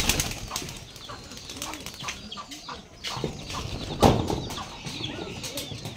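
White pigeons are released outdoors, their wings flapping in several short bursts, loudest about two-thirds through, with background noise in between.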